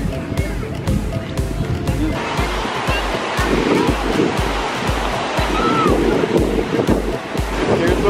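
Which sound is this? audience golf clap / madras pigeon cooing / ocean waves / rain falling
ocean waves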